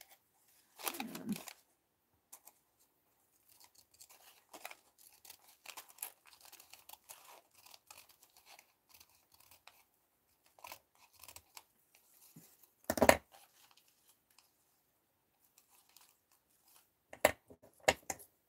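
Scissors snipping through fabric batting for a handmade Santa doll, a few crisp cutting bursts and crinkles spaced out at close range, with quiet rustling handling in between.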